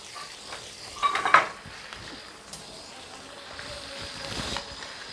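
Tomatoes tipped into a karahi of half-golden chicken set off a brief burst of sizzling and stirring near the start, which then settles into a low, steady frying hiss with faint clinks of a spoon against the pan.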